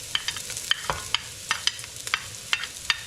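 Garlic and ginger sauté in a hot pan, a soft continuous sizzle broken by sharp, repeated scraping stirs at an uneven, brisk rhythm, close and without talk.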